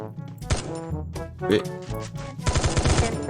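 Bursts of automatic fire from a new gun in the mobile battle royale game Free Fire, loud, close and uneven, with short volleys and pauses and a quick final rattle of shots, while a voice speaks faintly.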